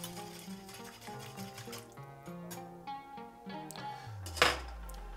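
Homemade teriyaki sauce is stirred in a bowl, giving a few light spoon-on-bowl clinks and a slight liquid slosh, faint beneath louder background music, with one sharper knock near the end.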